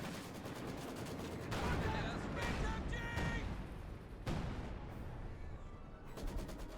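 Battle in Company of Heroes 2 on the 4v4 Lanzerath Ambush map, with StuG E assault guns pounding a ZiS gun: dense, continuous rattling gunfire and heavy booms layered together, with a voice talking over the fighting.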